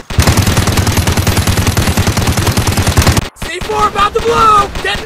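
Rapid machine-gun fire in a police highway car chase game rattles loudly and continuously for about three seconds, then cuts off abruptly into engine and game noise with a voice calling out.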